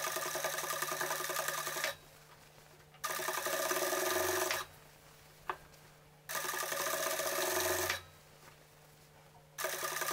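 A sewing machine stitches a polo shirt in repeated runs of steady mechanical whirring, each lasting a second or two and separated by quiet pauses.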